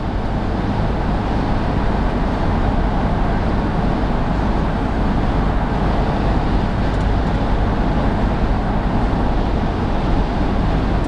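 Steady broadband wind rush and road roar inside a moving 2008 Honda CR-V EX-L cruising at about 50 on a windy day, constant and fairly loud with no talking.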